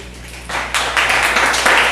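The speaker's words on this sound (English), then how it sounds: "we've done enough clapping for now" An audience at a Pacifica city council meeting claps in a steady wash of applause that swells in loudness after the first half-second and holds, close and continuous, with no speech over it.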